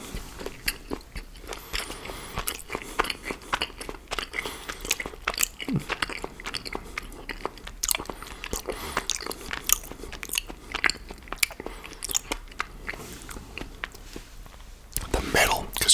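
Close crunchy bites and chewing of a chocolate chip cookie with chocolate chunks, a steady run of sharp crackles and mouth sounds from start to end, with soft whispered talk in between.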